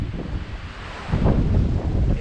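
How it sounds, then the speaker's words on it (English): Wind gusts buffet the microphone at the White Rock Cliffs along the Appalachian Trail, a rough low roar that swells louder in the second half with no talking. "It's windy."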